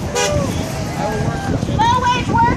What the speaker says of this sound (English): More people honking as they go by.